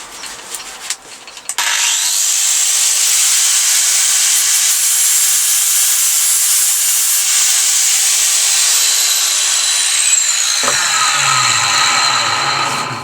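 An angle grinder disc smooths down a metal surface on a 1983 Yamaha RS125 DX motorcycle project. After a brief start, a loud, steady high-pitched grinding whine runs for about nine seconds, then winds down as the disc slows.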